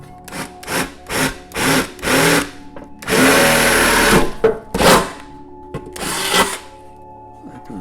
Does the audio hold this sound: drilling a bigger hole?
yes